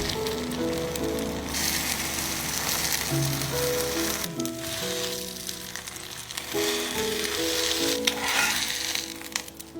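An egg frying in a non-stick pan gives a steady, hissing sizzle throughout, with a soft melodic background underneath.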